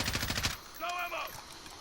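A video game weapon called the Grenader fires a quick rapid burst of shots, followed by a short tonal whine, close and fairly loud with no talk.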